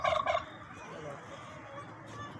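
A turkey lets out a short, loud burst of gobbling at the start, followed by quiet, faint background noise.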